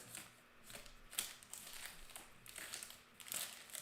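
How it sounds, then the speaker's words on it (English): Foil-wrapped trading card packs from a case of O-Pee-Chee hockey cards are shuffled by hand, giving a soft, continuous crinkling and rustling with small crackles, quiet and close, with no speech. "Kind of do a sideways shuffle here."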